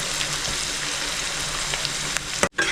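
Chopped onions sizzle steadily in hot oil while frying to a light brown, a continuous close crackle with a brief stir and a short pause near the end.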